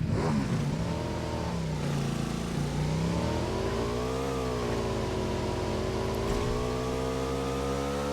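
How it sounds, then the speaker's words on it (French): A motorcycle engine in a video game revs steadily with a wavering, mid-pitched drone that rises and dips throughout, close and continuous with no talk. "Et on prend la moto."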